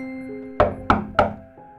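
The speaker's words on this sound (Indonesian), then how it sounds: "Suara ketukan pintu terdengar amat kencang." Three loud, close knocks strike a door in quick, even succession, each thudding hard, with no talking over them.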